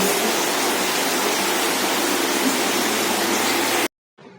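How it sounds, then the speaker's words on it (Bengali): Heavy rain pours down in a dense, steady roar close by, constant and loud for a few seconds before cutting off abruptly into near silence. "এদিকে দেখো একদম বিশাল জোরে বৃষ্টি হচ্ছে"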